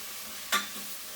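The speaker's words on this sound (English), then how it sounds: "Now I'm just going to go ahead and stir up my veggies really quick so nothing burns." Tofu-scramble vegetables sizzle faintly in a pan, broken by one quick, sharp scrape of a utensil near the middle before the gentle hiss resumes.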